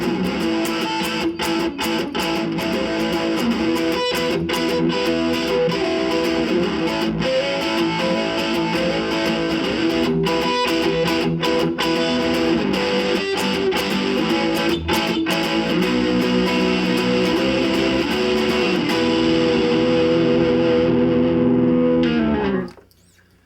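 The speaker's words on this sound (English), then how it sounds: "So there's the overdrive / distortion channel on Peavey's Classic 50 410 amp." A heavily distorted electric guitar, a Gretsch, plays a sustained chord progression through the overdrive channel of a Peavey Classic 50 410 tube amp, loud and continuous, before abruptly cutting off at the end.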